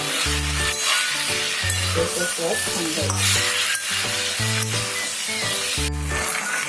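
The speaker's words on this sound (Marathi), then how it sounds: "आता हे थोडं परतवूया. थोडं तेलात परतलं गेलंच पाहिजे." Tamarind and curry leaves sauté in hot oil for a Jalgaon-style brinjal dish. A steady sizzle and stirring scrapes sit under a rhythmic background music track.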